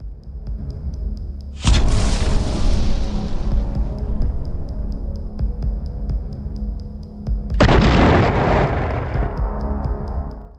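Two heavy explosions from FPV drone strikes on Russian artillery positions at the front, each a sudden loud blast trailing into a long rumbling decay over a steady low hum.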